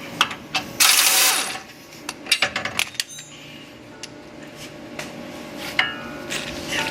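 A ratchet wrench works loose the lower bolt on a bumper mounting bracket of a 2015–17 Chevy Silverado 2500/3500, giving bursts of quick clicking and metallic clanks at close range with a loud rattling spell early on.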